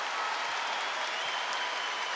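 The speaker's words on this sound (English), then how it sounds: "But they're also applauding that and making that the fact that Supatra is okay." Crowd applauding at a women's volleyball match between Turkey and Thailand, steady dense clapping from a large audience, loud and continuous throughout.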